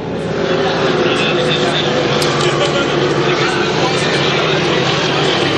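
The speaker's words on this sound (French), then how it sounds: "On a décidé d'y aller à fond de train. François Campeau qui a ouvert les gaz" A Hydro350 hydroplane racing boat runs at full throttle during a heat, its engine a loud, continuous droning roar that holds steady throughout without letting up.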